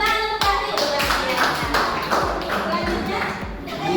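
Students in a vocational school classroom clap in a rhythmic pattern, about eight sharp, evenly spaced claps, close and fairly loud, with voices around them.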